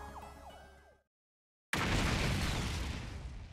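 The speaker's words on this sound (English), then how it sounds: "An explosion suddenly echoed across the room." Small bombs exploding in The Hundred Line video game: game sounds cut to a brief silence, then a single loud, close blast erupts and rolls on as a sustained, booming rumble that slowly fades.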